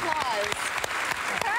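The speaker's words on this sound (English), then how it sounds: "That deserves a round of applause." A television studio audience breaks into applause, a steady wash of clapping with voices and cheering mixed in, close and continuous through the moment.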